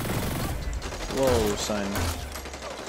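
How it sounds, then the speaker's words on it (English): Gunfire in the shooter video game Hyper Scape, bursts of shots and mechanical clatter landing around the player, mixed with game sounds, while a man exclaims briefly. "Where am I getting shot from?"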